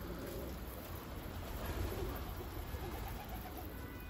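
Pigeons cooing outdoors in a pigeon-keeping setting, soft low coos blending into a steady noisy background with no talk.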